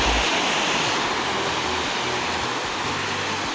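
Sea waves wash onto a quiet beach at Dagara, making a continuous loud broadband roar of surf with wind, close and steady throughout, no talk.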